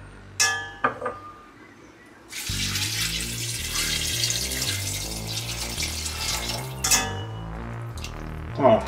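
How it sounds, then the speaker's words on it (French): Water is poured into a cooking pot to cover the ingredients for a Pyrenean mountjetade, a steady gushing pour lasting several seconds between a few clinks of pot and utensil. "vous allez tout simplement recouvrir d'eau à hauteur"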